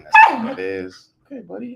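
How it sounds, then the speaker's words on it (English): A dog lets out one sharp, close bark, then a person speaks briefly in a calm voice. "So if you hear some barking"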